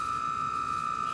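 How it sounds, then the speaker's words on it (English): An electric egg cooker's alarm gives a steady, unbroken electronic tone, fairly faint, with no talking. "that's the alarm."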